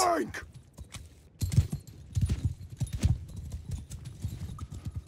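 Horse hooves clip-clop in a steady, uneven walking rhythm from the mounts of horse archers gathered on a hill in Mount & Blade II: Bannerlord, with a louder cluster of hoofbeats midway.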